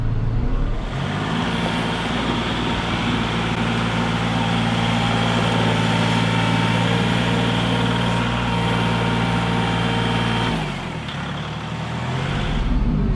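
Kubota Grand L tractor engine held at high revs by the throttle advance, a loud continuous roar over about ten seconds before the revs fall back toward idle, then build again.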